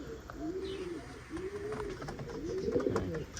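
Pigeons coo in repeated soft, rolling calls, three or four phrases close by over a low room background.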